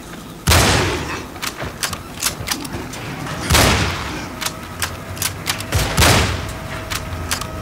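Bursts of enemy gunfire in the video game Cryostasis, three loud booming volleys a few seconds apart with rapid crackling shots between them, close and harsh.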